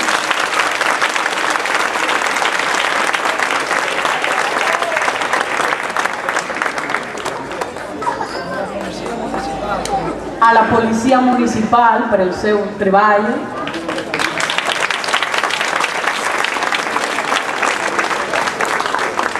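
An audience at a community event bursts into loud, sustained applause that fades while a voice speaks over a microphone, then swells back into full clapping.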